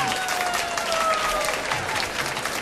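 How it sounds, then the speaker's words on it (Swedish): A small round of audience applause at a live 1989 concert, brisk clapping from a modest crowd with a faint sustained tone threading through it. "Han får en liten applåd"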